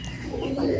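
Pet pigeons of a breed kept in varied colours, including red, white and black-shaded birds, give a soft, low cooing call close to the microphone in a brief single phrase with no voices.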